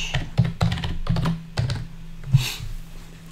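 A password is typed on a computer keyboard: a quick, uneven run of close key clacks and taps over about three seconds, ending with a softer keystroke.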